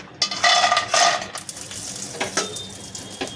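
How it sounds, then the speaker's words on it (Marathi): Grated carrot roasting and being stirred in a pan for homemade carrot halwa, with scraping and light sizzling in short bursts and occasional clinks of utensil on metal, close by and with no talk. "थोडेसे आपण हे भाजून घेणार"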